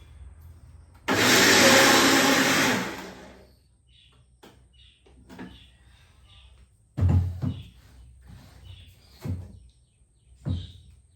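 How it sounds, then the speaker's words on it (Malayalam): Mixer grinder briefly grinding coconut for a crab curry: one loud, whirring burst of about two seconds, followed by scattered clunks and knocks of handling. "ഇനി തേങ്ങ ഒന്ന് അരച്ചെടുക്കാം നമുക്ക്"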